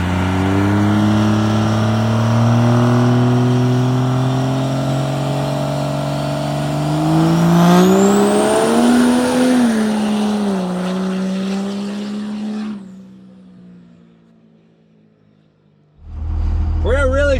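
A 1,000+ hp Cummins-swapped Squarebody truck revs hard as its turbo spools up into a loud climbing whistle, then the engine cuts off abruptly into near silence before a short burst of noise returns.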